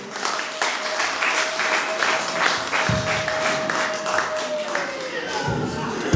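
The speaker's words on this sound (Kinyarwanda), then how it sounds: "Dukomere Imana amashyi." A church congregation claps in steady rhythmic applause, a dense crowd of hands beating together over several seconds with a voice speaking over it.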